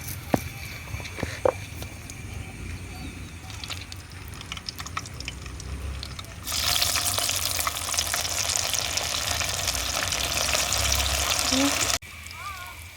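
Cauliflower 65 pakoda dropped into hot oil, a loud dense bubbling fry that jumps up suddenly and holds steady, after a stretch of quieter background noise with a few clicks.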